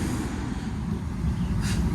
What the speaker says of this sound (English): 610 Train to Yuen Long is arriving at platform 1.